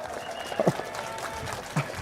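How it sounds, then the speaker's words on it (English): An audience at a PSP political rally claps, a diffuse, fairly faint wash of crowd applause with scattered louder hits and some voices mixed in. "Clap louder if you did more."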